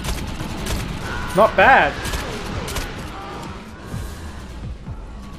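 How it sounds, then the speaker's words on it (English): A shotgun fires in the video game Defiance, two sharp close blasts in quick succession early on, followed by quieter game sounds, with someone talking briefly. "I'm gonna test out this shotgun, see how good it is."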